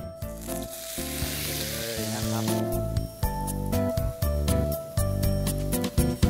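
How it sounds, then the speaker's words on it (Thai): Beef steak sears in a hot oiled pan with a loud, bright sizzle, punctuated by clinks and pan knocks, while someone talks over it. "อันนี้ร้อนแล้ว เดี๋ยวผมใส่เนื้อลงไปเลยนะครับ"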